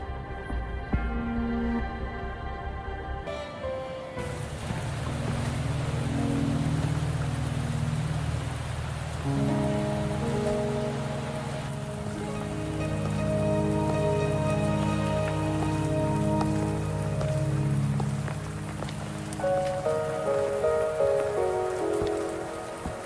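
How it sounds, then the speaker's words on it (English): Steady rain falls in a Wuthering Waves game scene, a continuous hiss layered with soft tonal music that shifts in sections; no voices. "Are you trapped here by the rain?"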